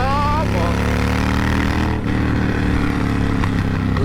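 A Ducati Multistrada V4 motorcycle with a 170-horsepower V4 engine revs hard and continuously, loud and close, its steady harmonic drone rising briefly near the start and holding with only a short dip midway.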